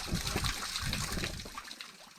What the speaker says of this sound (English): the trickling sound of water as it cascades through crevasses